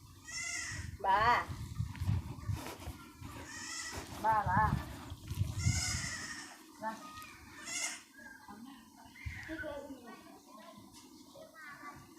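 Goats bleat repeatedly at a goat pen, with several wavering, overlapping calls close by, while people talk over and between them.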